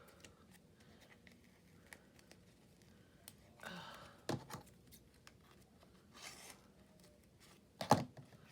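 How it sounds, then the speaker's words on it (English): Gesso-coated cheesecloth being torn on a mixed-media art piece: a few short, rough ripping bursts, close but fairly faint, separated by quiet gaps. "that cheesecloth is not tearing really well"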